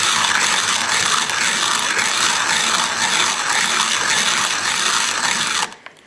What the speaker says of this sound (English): So keep grinding for a little bit here